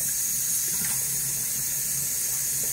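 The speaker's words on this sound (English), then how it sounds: "Let's do a fresh water rinse." Tap water runs steadily into a sink for a fresh rinse during a wet shave, a constant close hiss and splash with no breaks and no voices.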